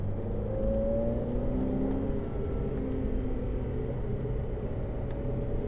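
Ferrari F8 Tributo V8 engine on the Le Mans Maison Blanche race track, a loud, steady close-up engine roar with rising revs under acceleration, continuous throughout with no talk.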